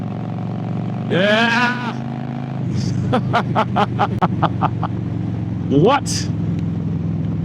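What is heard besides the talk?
motorcycle engine revving while riding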